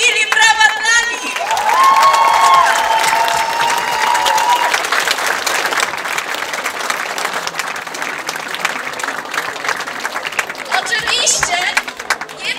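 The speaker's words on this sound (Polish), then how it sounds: "brawa dla nich" Crowd at an outdoor Midsummer Night celebration applauds the dancers loudly, dense clapping with some cheering and chatter, while a voice speaks over it near the start.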